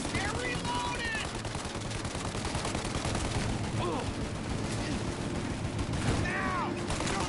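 Dense, continuous machine-gun fire and rapid gunshots in a PS4 video game shootout, loud and unbroken throughout, with shouting voices mixed in.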